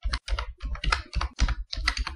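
Computer keyboard keys pressed in quick succession for a Ctrl+K shortcut in Microsoft Office, a run of close, crisp clicks and clacks in short bursts with brief pauses, no talking.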